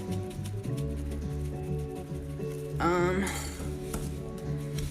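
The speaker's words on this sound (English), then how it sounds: "This is a lot of mixing to do by hand." A spoon scrapes and clinks against a bowl while banana cake batter is mixed by hand, making repeated rhythmic stirring sounds and light clinks over quiet background music.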